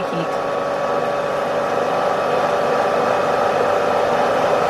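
A vintage hair dryer on high heat blows with a steady, loud whooshing roar that stays even throughout without pause.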